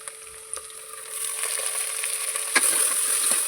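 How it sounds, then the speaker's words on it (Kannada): Dill leaves fry in a pan with onion and green chillies, a hissing sizzle that starts quiet and grows denser, with a few scraping stirs and clinks of a spoon. "ಅದರ ಹಸಿ ವಾಸನೆ ಹೋಗುವವರೆಗೂ ಚೆನ್ನಾಗಿ ಫ್ರೈ ಮಾಡ್ಕೋಬೇಕು"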